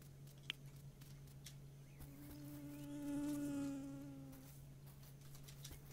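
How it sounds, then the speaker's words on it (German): A housefly in the game Dinkum buzzes close by, a faint thin drone swelling in the middle then fading, over a steady low hum and scattered soft clicks. "Ach, das ist wieder nur eine normale Fliege."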